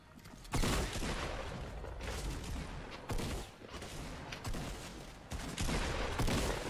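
Rapid, dense volleys of gunfire in the Fortnite video game crackle almost nonstop, rising into several sharper, louder bursts over a steady backdrop of shots.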